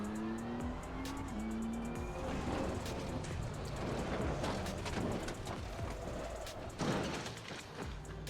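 A race car in the Assetto Corsa Competizione racing game runs a lap. Its engine howls loud and steady, rising through the gears with each shift, then turns into rough, broadband roaring with tire noise and a sharp scrape near the end.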